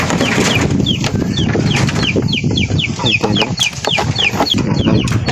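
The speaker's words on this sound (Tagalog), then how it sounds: "At yung manok na namin guys." A flock of chickens clucks steadily and close by, with many overlapping short calls against a busy farmyard background.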